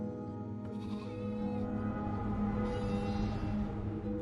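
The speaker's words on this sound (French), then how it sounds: "Ulysse leur désigne les brebis rassemblées dans un coin. Elles ne cessent de bêler" Several sheep bleat continuously in a gathered flock, wavering calls overlapping close by at steady loudness with no other sounds.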